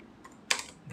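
Computer keyboard typing while entering C printf code, a few faint scattered taps and then one sharper clack near the middle, with no voices.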